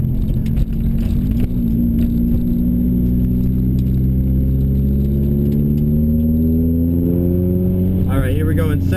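A turbocharged Nissan Silvia pulls in second gear with its engine revving steadily upward, a loud, close, continuous drone rising in pitch and ending in a burst of turbo noise, with a voice talking briefly underneath.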